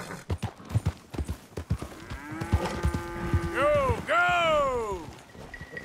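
Cattle lowing as they are herded in Red Dead Redemption 2, two long drawn-out moos near the end following scattered clip-clop of hooves and game sounds.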